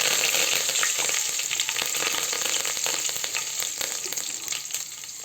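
Curry leaves crackle and sizzle steadily in hot oil, a close, dense frying hiss with scattered sharp pops throughout, no voices.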